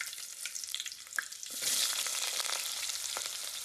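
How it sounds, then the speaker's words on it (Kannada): Mustard seeds crackle and sizzle in hot oil, forming a steady, dense frying hiss with small pops and faint stirring clinks, close to the pan and with no voices. "ಸ್ವಲ್ಪ ಎಣ್ಣೆ ಬಿಟ್ಕೊಳ್ಬೇಕು. ಸ್ವಲ್ಪ ಸಾಸಿವೆ ಹಾಕೊಳ್ತಿದ್ದೀವಿ."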